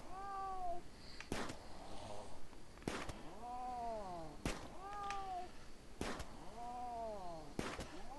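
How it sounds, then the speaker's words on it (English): An annoyed cougar in the video game RimWorld lets out repeated snarling, cat-like yowls, each cry wavering and sliding in pitch. The cries are broken up by several sharp, loud gunshot-like cracks at regular intervals. "That does sound like an annoyed cat."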